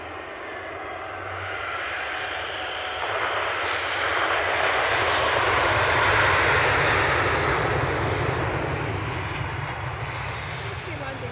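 A passenger airplane comes in to land at Edinburgh Airport on an icy day, its engine roar broad and steady, swelling to a peak midway and then easing, with people talking over it.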